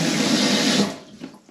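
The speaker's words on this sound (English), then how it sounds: "so that's that tap sorted, water's back on" Water gushes steadily from a tap just after its cartridge is replaced, a loud close splashing rush that cuts off abruptly partway through, leaving faint drips.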